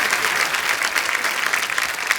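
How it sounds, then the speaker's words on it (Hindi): Loud, dense applause from a crowd, sustained steadily throughout with no pauses. "जोरदार तालियां एक बार हो जाए"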